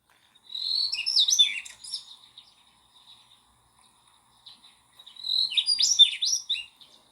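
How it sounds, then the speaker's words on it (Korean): A bird chirping in two separate bursts of bright, quick tweets, clear and fairly close, with near silence between them. "새 우는 소리를 한번 들어볼까요?"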